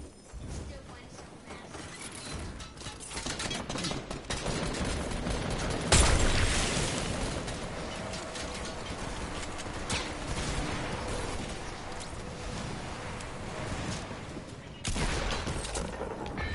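Sniper rifle shots in a shooter game ring out over a dense, loud wash of battle noise, with two sharp, heavy cracks that stand out from the steady din.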